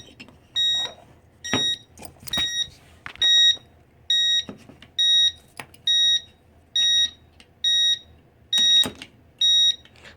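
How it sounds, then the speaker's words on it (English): Fire alarm in a demonstration alarm system sounding a loud, shrill electronic beep repeated about a dozen times in an even rhythm, roughly one tone every 0.8 seconds, with occasional clicks between beeps. "the fire alarm remains on"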